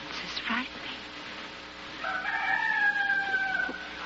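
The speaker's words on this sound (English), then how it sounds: "It sounds like a rooster." A rooster crows once in a 1953 radio drama, a long drawn-out cock-a-doodle-doo rising clearly over a faint background hum, heard close and fairly loud after a brief quiet stretch.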